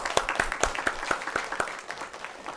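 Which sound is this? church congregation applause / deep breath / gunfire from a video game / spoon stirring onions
church congregation applause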